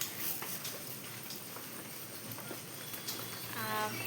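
Rain falls on a morning in a steady, soft, broadband hiss that holds evenly throughout, with a faint voice-like sound near the end.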